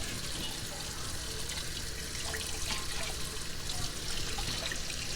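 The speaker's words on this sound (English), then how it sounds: "I pour the water off" Water poured off a pan of steamed fish in a home kitchen, Jamaican style, a steady splashing trickle that runs continuously for several seconds, moderately close with no talk.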